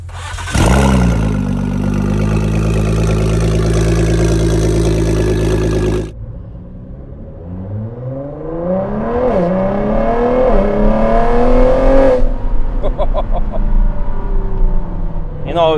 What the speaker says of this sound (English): With this car you don't need a horn, because everybody can hear you because of exhaust.